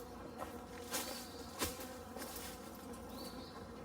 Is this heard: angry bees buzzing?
yes